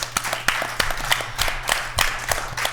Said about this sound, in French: Bravo, hein, on applaudit nos participants.